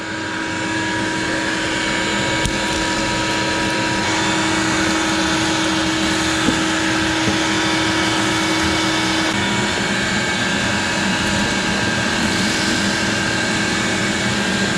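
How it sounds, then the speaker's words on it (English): A vacuum cleaner sucks broken windscreen glass out of a 2003 Mini Cooper S, giving a steady, loud, close roaring drone that runs unbroken from start to end, with no voices over it. "So I'm just gonna be running the vacuum, nothing too fancy."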